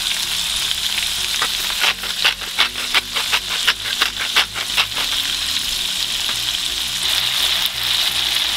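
Salted tomatoes sizzle in a frying pan for a sauce served with salmon fillet, a loud continuous hiss with a run of rapid stirring scrapes and crackles in the middle, close up.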